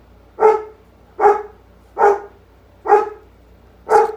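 A dog barks five times at a steady, unhurried pace, each bark clear and moderately close, with no other sounds around it.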